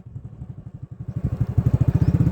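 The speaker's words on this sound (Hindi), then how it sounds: "हम जा रहे हैं मोटरसाइकिल पे" Motorcycle riding along a canal, its engine putting out a rapid, steady thumping pulse up close that grows louder and faster toward the end, with a light clatter and no talk.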